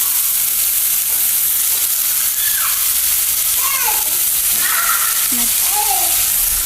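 Chopped vegetables fry steadily in a hot pan at home, a loud, continuous close sizzle throughout, with faint higher chirps and voices in the background.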